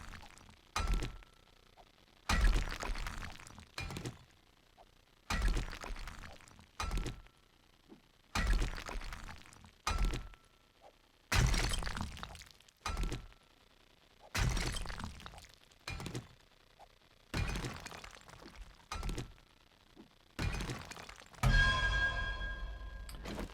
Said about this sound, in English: That noise means I'm hitting the bedrock.